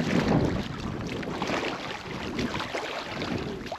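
Packraft paddling across choppy water into a headwind, with continuous wind buffeting the microphone and water slapping and splashing close by, no speech.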